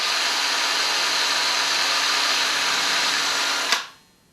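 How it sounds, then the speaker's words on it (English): A power drill whines steadily at high speed while boring a pilot hole into wood, loud and close, then stops abruptly near the end. "drill a pilot hole."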